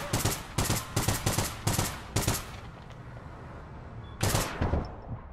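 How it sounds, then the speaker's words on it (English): Rapid bursts of automatic gunfire in APB Reloaded striking the player from behind, five or six loud clipped bursts in quick succession, a short lull, then another burst, close and with no talk over it. "I'm being shot in the back"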